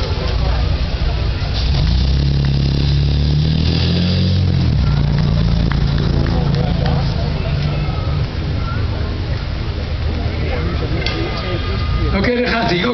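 An Opel race car, number 40, passes with a loud engine drone and rising revs that swell and fade. A person talks over it throughout.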